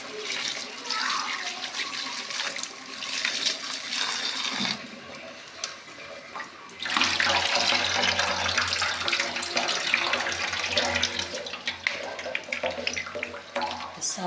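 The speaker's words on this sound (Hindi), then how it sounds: "सारा साग मैंने धो लिया।" Tap water runs steadily as mustard greens are rinsed in a home kitchen, a continuous close gushing and splashing that grows fuller and louder halfway through, with no voices.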